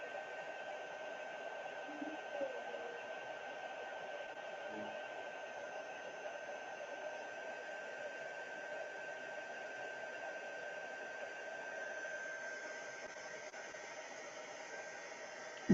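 A hair dryer dries a watercolor painting with a continuous, even whooshing hum that stays steady and moderately loud throughout, with no break in the airflow.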